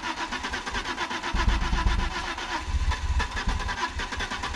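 An Audi car engine cranks and fires, then settles into a rough, steady idle. The sound is loud and close, with heavier low rumbling surges partway through and no talk over it.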